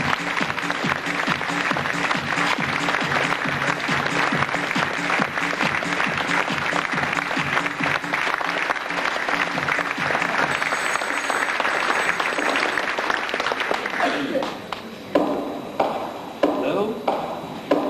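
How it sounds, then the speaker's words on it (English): An audience at a 1998 school fashion show at Bandon Grammar in County Cork applauds the models, thick sustained clapping for about fourteen seconds that thins into scattered claps at the end. "give a special round of applause for all of our special models"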